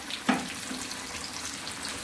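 Chicken pieces fry in hot sunflower oil over a high flame, making a soft, continuous sizzle with a brief clink near the start; no one speaks.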